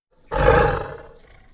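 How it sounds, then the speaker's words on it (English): A single tiger roar in a children's cartoon bursts in suddenly, loud and deep, then rumbles and fades over about a second, heard alone without speech. "T for tiger."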